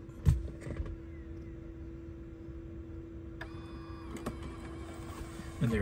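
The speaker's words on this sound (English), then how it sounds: "And then the eject button works as well." A CD player fitted in a 1965 Ford Mustang ejects a disc, giving a soft mechanical whir and click near the end, over a low steady hum with no talking.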